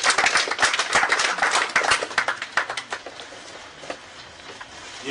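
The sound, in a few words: audience applause for the FIFA President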